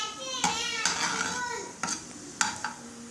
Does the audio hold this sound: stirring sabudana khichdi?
yes